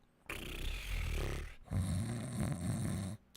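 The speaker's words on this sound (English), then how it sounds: "just loud snoring" Loud snoring as a sound effect, two long snores in a row, each a rough, rattling rumble separated by a short pause, close and with no talk over them.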